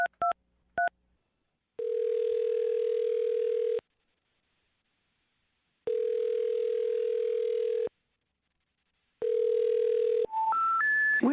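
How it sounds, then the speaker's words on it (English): A landline phone is dialed: a few short keypad tones, then a steady dial-tone-like signal sounding in long bursts separated by silences, ending in a rising three-note intercept tone. "we're going to dial Oscar's phone number right now"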